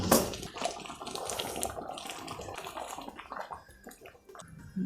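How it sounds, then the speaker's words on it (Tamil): A small spoonful of water goes into a hot pan holding ground paste for a jackfruit seed and brinjal kuzhambu, setting off a close, hissing sizzle that fades unevenly over a few seconds. "ஜஸ்ட் ஒரு சின்ன ஸ்பூன் தண்ணி விட்டுக்கிறேன்."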